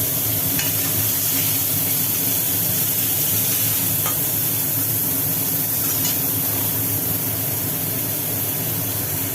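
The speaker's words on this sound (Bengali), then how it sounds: "উচ্চটা মোটামুটি ভাজা হয়ে গেল" Sliced bitter gourd frying in oil in a pan for a Bengali vegetarian shukto, a steady dense sizzle running throughout with a few faint clicks from the pan, no voices.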